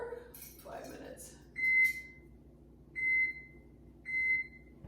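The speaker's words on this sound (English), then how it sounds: "set the timer for 5 minutes" Kitchen timer being set for five minutes: a couple of button clicks, then three evenly spaced electronic beeps, each lasting under a second, with faint voice and handling noise early on.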